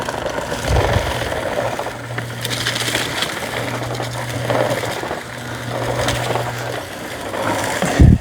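21-inch VEVOR push lawn sweeper shoved through weeds, a steady rustling, crunching churn with brief bumps and a low mechanical drone, ending in a heavy clunk.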